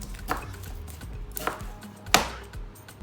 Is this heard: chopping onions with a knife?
yes